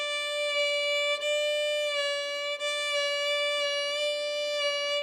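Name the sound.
fiddle vibrato exercise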